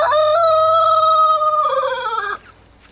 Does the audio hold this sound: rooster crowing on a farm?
yes